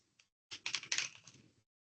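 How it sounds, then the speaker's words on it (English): Fingers type on a computer keyboard in a quiet room, a short faint burst of rapid key clicks lasting about a second. "I'm going to start typing into my document."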